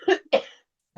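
Two sharp, close coughs from one person during a tech session on the Anchor framework, followed by silence and the start of another sound at the very end.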